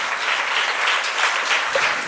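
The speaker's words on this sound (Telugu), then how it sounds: "ఒకసారి చప్పట్లు కొట్టి దేవుని స్తుతిద్దాం." A church congregation claps in praise, a dense, steady wash of applause from many hands, loud and continuous throughout with no voices on top.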